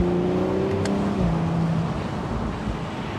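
A 2022 Audi S5 Cabriolet with the top down accelerates: the engine note climbs in pitch over the first second, then gives way to a steady wash of wind and road rush.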